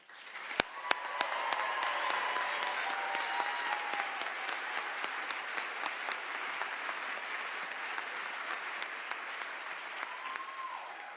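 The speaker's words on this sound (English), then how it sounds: "please join me in giving them another round of applause" A large crowd applauding steadily at a NASA astronaut candidate introduction, a broad wash of clapping that swells quickly and holds for several seconds, with a few cheers faintly rising.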